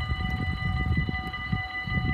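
A train passes at Sint Joost with a steady rumbling roar and a sustained multi-tone horn-like whine, loud and continuous throughout.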